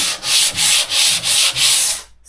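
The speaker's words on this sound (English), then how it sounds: "Kind of just in this spot, I just took this flexi sander," A flexi sander works over a coated wooden boat door frame in strokes, five or six loud, rhythmic rasping passes close by with brief dips between them before it stops, and no one speaks.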